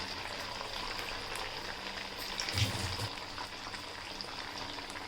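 Sabudana vadas fry in hot oil over a high flame, two at a time, giving a steady, close, even sizzling hiss with a faint bubbling swell partway through.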